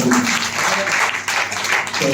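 A church congregation at a pre-Christmas carol celebration claps together, loud and steady, in a sustained burst of applause over about two seconds.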